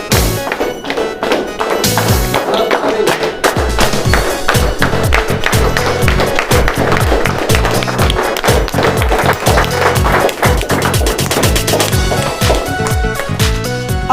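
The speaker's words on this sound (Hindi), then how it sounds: "हम लोग सभी मित्र लोग खड़े होकर जोरदार ताली से उनका स्वागत करेंगे।" A standing audience at a network marketing success event claps loudly and continuously, a dense, fast patter of many hands close by without pause.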